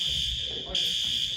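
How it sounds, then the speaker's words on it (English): A fire alarm blares a steady high electronic tone inside a gym during a basketball game, constant and loud over crowd noise and talking. "And the alarm's going off again, but they're going to keep on playing through it."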